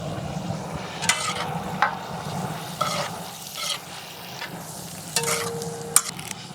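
Ginger, garlic and green chilli frying in a pan with onion, stirred now and then, giving a steady low sizzle broken by several sharp scraping clicks of the spoon against the pan.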